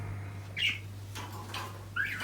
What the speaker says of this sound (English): I've got 3 little budgerigars in this larger enclosure